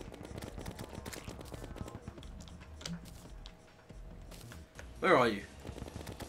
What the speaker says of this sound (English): I'm just going to wait for you to come up and then murder you with bullets.